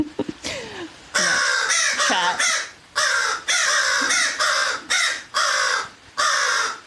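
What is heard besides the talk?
crows cawing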